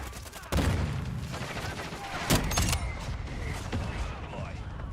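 Mortar strike explosions and gunfire in a military shooter video game, a sudden heavy boom followed by continuous rattling fire and a second blast, loud and close, with game voice callouts over it.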